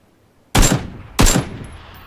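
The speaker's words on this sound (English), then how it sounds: "Oh, someone's shooting at me." Two loud, sharp gunshots ring out in PUBG Battlegrounds, spaced about two-thirds of a second apart, each trailing off in a short echo.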